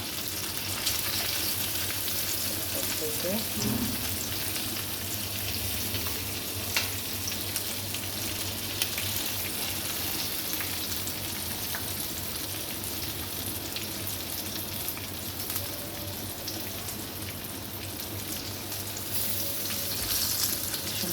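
A whole hilsa fish frying in oil, a steady, close, continuous sizzle with occasional light spatter and a soft utensil knock, lasting throughout with no speech.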